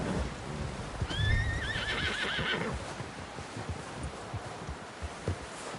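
Horse neighing in Red Dead Redemption 2, a clear rising-and-falling whinny in the first half, then hooves clopping and rustling ambience continuing at a moderate distance.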